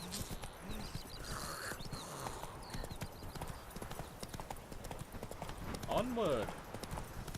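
Roach, a horse in the video game The Witcher 3: Wild Hunt, clip-clops at a steady rhythm through the whole stretch, close and clear, with a voice calling out briefly and a horse's whinny near the end.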